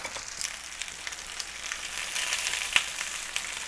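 Chicken tikka marinade tossed with onions and peppers sizzles and sputters in a pan, a steady crackling fry with scattered sharp pops, close and alone.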